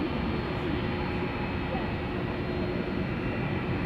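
Aircraft taking off at Sydney Airport, with a steady, loud, broadband engine roar that fills the whole clip without letup.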